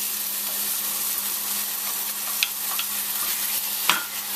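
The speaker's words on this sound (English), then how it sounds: "To that, I have 3 tomatoes. I pureed it, and I'm going to add it." Pureed tomatoes (three tomatoes) hit a hot pan for palak paneer, giving a steady, fairly loud broadband sizzle with a few sharp spatters and pops near the end, no voices.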